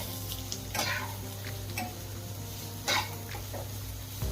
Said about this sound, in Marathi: कांदा व्यवस्थित तेलात परतून घेऊया।